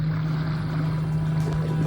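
An outboard motor mounted on a hybrid fishing kayak drones steadily with a strong low hum, running continuously and close, with wind and water noise beneath.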